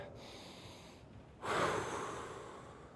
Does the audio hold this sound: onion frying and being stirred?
no